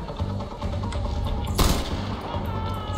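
Gunfire in the Far Cry 4 video game, a sudden loud burst of shots near the middle over a continuous game soundtrack, with no voices.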